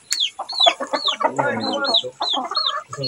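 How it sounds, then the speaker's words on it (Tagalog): A rooster clucks and crows repeatedly at close range, with short rising calls and some strained crowing-like vocalizations, fairly loud against a quiet background. "Tandang manok."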